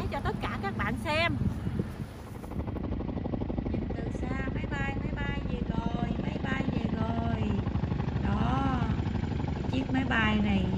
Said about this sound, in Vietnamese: Máy bay này về